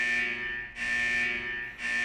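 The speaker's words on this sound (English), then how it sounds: "Suddenly, the corridor alarm bled to life again." A corridor alarm in the video game Snowbreak blares as a steady, loud electronic buzzing tone, pulsing in two long cycles with brief dips between them, with no voices.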